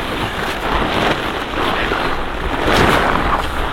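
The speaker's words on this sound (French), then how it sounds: "comme il y a beaucoup de vent" Strong wind on a glacier roars steadily across the microphone, a dense rushing noise that swells slightly in gusts, with no voices.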